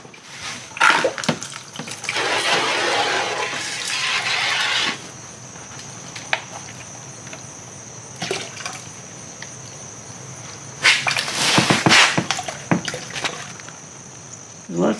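Gold ore concentrates swirl and slosh in water in a small finishing pan, with intermittent splashing bursts separated by quieter stretches and scattered knocks.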